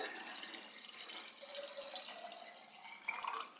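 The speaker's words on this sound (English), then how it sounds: "I have to fill it up with this little jar because it won't fit under my dispenser." Water runs from a tap into a small jar, a soft, steady trickle that rises slightly near the end, with no one speaking.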